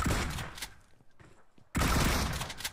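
PUBG Mobile gunfire, dense bursts of rapid shots, loud and close, that drop away briefly before a heavy volley resumes.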